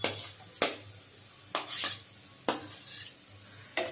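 Green chilies, garlic and ginger being stirred in a pan over low to medium flame for palak paneer, with several sharp scrapes of a spoon against the metal spaced a second or so apart over a soft sizzle.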